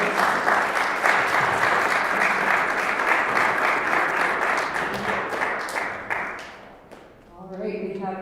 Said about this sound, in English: let's give Will one more round of applause.